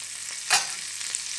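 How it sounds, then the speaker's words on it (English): Butter hitting a very hot pancake pan gives a brief, soft sizzle that flares up once and then settles into a faint, steady frying hiss, with no voices. "I always prep my pan with a little bit of butter."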